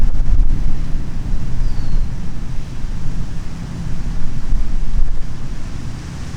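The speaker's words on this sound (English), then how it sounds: "It's kind of windy." Strong outdoor wind buffets the microphone during an open-air yoga session, a loud, steady low rumble with gusty swells that continues throughout with no talking.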